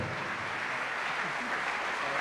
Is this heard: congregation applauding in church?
yes